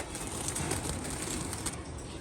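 Pigeons in a loft give soft, continuous cooing and murmuring. The sound is low and fairly faint, with a faint rustle of wings now and then.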